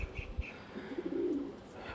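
Gola line pigeons coo softly in a low, drawn-out phrase near the middle, with faint chirps and light thumps over quiet background noise.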